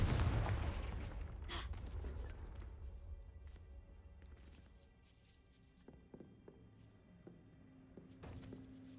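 A Confringo fire-blast spell in Hogwarts Legacy bursts loudly at the start and rumbles away into a low decaying roar, with scattered lighter impacts and debris clatter following.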